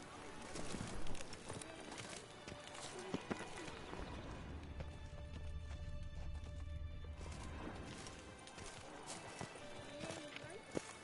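Roach the horse galloping in The Witcher 3, with rhythmic hoof clip-clops, an occasional neigh and scattered crashes, all under game music and voices talking.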